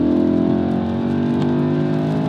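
An Audi RS4 B7 V8 with over 391,000 km on the engine pulls hard in third gear, its loud, steady engine drone and rising harmonics filling the cabin with no talking.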